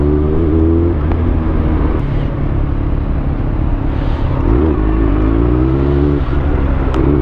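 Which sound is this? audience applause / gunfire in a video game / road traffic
road traffic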